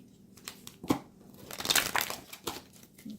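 Crisp papery riffling and flicking in several quick bursts, a deck of tarot cards being shuffled close by, with no voices.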